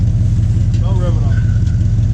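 A 1983 Firebird V8 with open exhaust, comparing straight pipes and Cherry Bomb glasspacks, rumbles loudly and steadily up close while a voice talks briefly over the engine.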